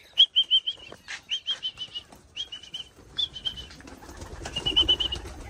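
Pigeons fluttering while eating wheat, with repeated bursts of flapping wings and short high whistling notes, followed by a rising rustle of movement, close and fairly loud with no talk.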